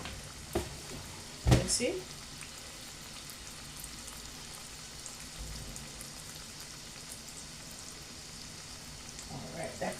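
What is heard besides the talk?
cassava fry dumplings frying in pan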